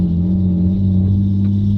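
Morning road traffic on a congested suburban economic road outside Vientiane, where trucks pass often: a steady, loud, low engine rumble with a constant hum and no talking, lasting under two seconds.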